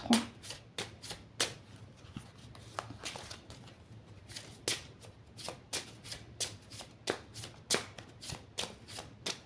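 Oracle cards are shuffled by hand for a reading, with a quiet, steady run of crisp riffling slaps and flicks in close succession that goes on throughout, close up and faint.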